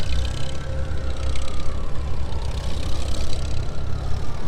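A John Deere tractor engine rumbles past in a small-town New Year's Day parade, a steady low throb that stays loud and close the whole time with a faint whine riding above it.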